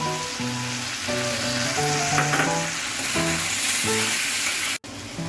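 Chopped tomato and green chillies fry in a pan for a home-style kadai chicken, a steady moderate sizzle running beneath melodic background music with no one talking.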